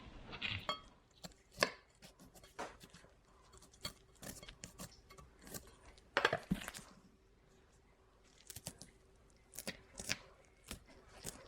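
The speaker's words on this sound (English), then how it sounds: "I run my knife down the center of them." Knife slicing jalapeño peppers lengthwise on a cutting board, a run of sharp, close cuts and taps in irregular bursts separated by quiet pauses.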